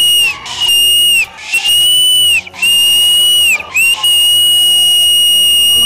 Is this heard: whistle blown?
yes